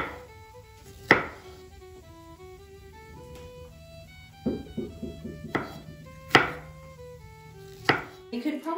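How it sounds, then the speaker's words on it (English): Knife slicing fresh strawberries on a cutting board for shortcake, soft scattered taps and thuds of the blade spaced irregularly, quiet and close, over faint background music, no talking. "We're just going to go ahead and slice them so we can add it to our shortcake whenever it's done."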